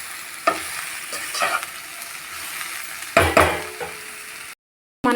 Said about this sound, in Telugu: ఇక పసుపు వేసుకొని కలబెట్టుకోవాలంతా.